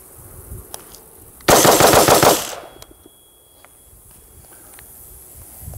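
A rapid string of gunshots from an AR carbine rifle at an outdoor range rings out in one quick, loud burst of about a second, then fades into quiet ambience with insects.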